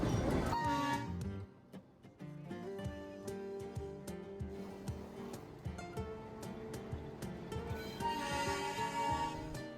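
The Ooty toy train pulls into the station with sustained horn and whistle tones over rumbling, clattering wagons, loud and close, ending in a rising burst of noise.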